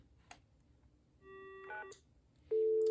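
Telephone line tones on an early-1990s desk phone during a test call: faint clicks, then a sustained tone with a short tone burst, followed by a loud, steady line tone near the end.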